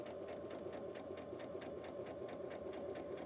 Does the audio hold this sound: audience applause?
no